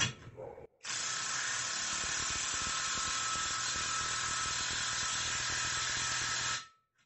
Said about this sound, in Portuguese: Parafusadeira no nível 1.